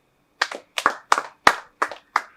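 Wedding guests clap for the newly married couple in six separate, sharp bursts of hand claps that come at an even pace, close and clear with no talking.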